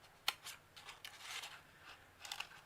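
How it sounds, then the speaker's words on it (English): Scissors cut through paper up close for a Christmas cone angel craft, giving quiet crisp snips and slicing rustles in a loose irregular rhythm with no talking. "It's not necessary to watch me cut things out."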